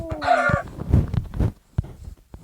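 Chickens cluck and a rooster crows in the Minecraft video game, with several short, sharp clucks and a rising crow near the start, followed by scattered clucks fading out.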